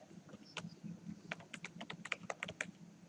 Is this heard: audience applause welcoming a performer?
no